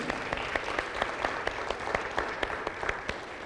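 A congregation claps together in steady, dense applause, sharp clap peaks standing out throughout, with no talking over it.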